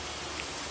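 Rain falls steadily on potted garden plants, including a jasmine bush, as a soft, even patter close by that carries on without a break for under a second.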